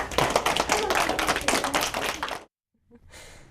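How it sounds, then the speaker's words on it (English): A round of applause from a small audience at a children's and young adults' TV program, with distinct individual claps for about two and a half seconds before stopping abruptly, followed by near silence and a faint hiss. "Let's give her a round of applause"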